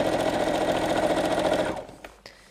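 A sewing machine stitches over the straps of a BBQ utensil roll in a fast, even mechanical run that stops abruptly, followed by a couple of faint clicks.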